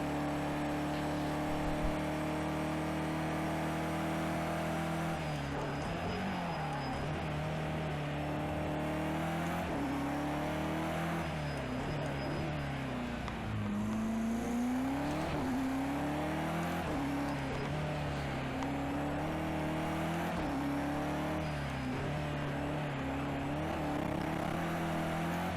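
Race car engine in the video game Project CARS 2, a continuous loud whining drone that rises and falls with revs through gear changes and cornering, steady and unbroken with no voices over it.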